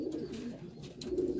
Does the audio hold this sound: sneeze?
no